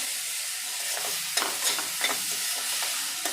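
Finely chopped tomatoes sizzle in a pan of pav bhaji vegetables while a spoon stirs them, with a steady frying hiss broken by several scraping strokes.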